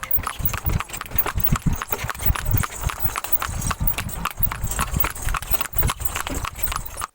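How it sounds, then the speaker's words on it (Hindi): Hooves of a horse pulling a tanga clip-clop steadily on a road in Pakistan, a continuous close rhythm of hoof strikes over faint traffic and street noise. "सड़कों पर दौड़ते घोड़े के सुमों की आवाज कहीं मांद पड़ गई थी"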